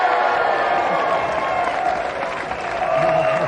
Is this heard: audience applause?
yes